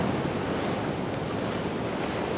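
Strong ocean waves crash and surge onto a steep beach while surf spinning for salmon and tailor, a continuous loud roar of churning surf with some wind noise across the microphone.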